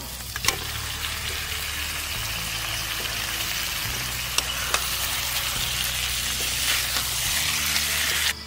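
Mutton sizzles in masala in a pot over a forest campfire at night, a continuous dense frying crackle with occasional sharp pops.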